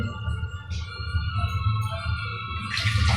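Water pours from a small pot into chutney, a close running trickle that goes on steadily and swells into a stronger splash near the end.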